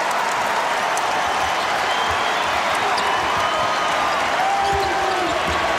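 Crowd applauding and cheering inside a basketball arena at a Kentucky versus LSU college game, a loud, dense and steady wash of clapping that runs the whole time, with faint court sounds beneath.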